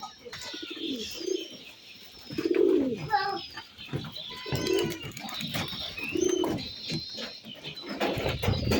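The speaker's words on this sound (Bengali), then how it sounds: "এই যে মোটামুটি নিউ অ্যাডাল নর কবুতরগুলো, এই যে এদের অবস্থা।" Several newly adult male pigeons coo in repeated rolling phrases nearby, overlapping one another with occasional wing flutters and faint chirps.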